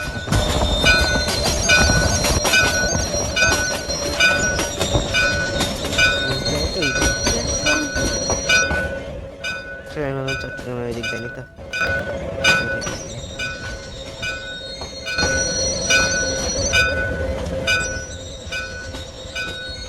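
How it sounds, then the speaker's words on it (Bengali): Train braking in the Train Simulator Bangladesh game as it pulls into a station: a steady rolling rumble with sustained high metallic wheel squeal, a brief sweeping tonal passage midway, then the squeal resumes, loud and close. "এখন ব্রেক মারতে হবে"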